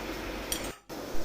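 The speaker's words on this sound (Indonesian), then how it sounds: "Ini kita lepas dulu tali pengikatnya dan dari besinya kita lepas." A single faint metallic clink as oven-grilled senangin (kuro) fish is lifted off its metal rack after the tying string is removed, followed by a short quiet moment and soft handling noise.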